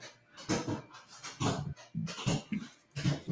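A dog in the background barking in short, excited bursts, about seven rough barks in a few seconds, at moderate distance.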